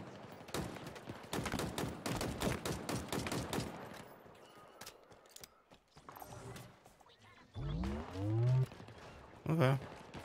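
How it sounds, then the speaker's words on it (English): Halo Infinite campaign: rapid bursts of enemy gunfire rattle for about four seconds, then sporadic shots follow, and voices speak near the end. "There's people all the way over there shooting me."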